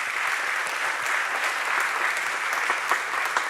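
Steady applause from a large church congregation during a worship service, a dense wash of clapping that holds evenly throughout without voices over it.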